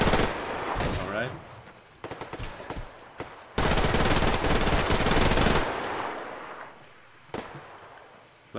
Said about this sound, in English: The sound of the shooting is actually quite alright.